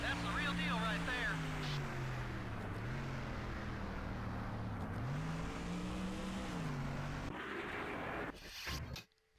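NASCAR stock cars race the Watkins Glen road course in the video game NASCAR Thunder 2004. A steady, loud engine drone rises and falls in pitch through gear changes, then cuts out abruptly near the end.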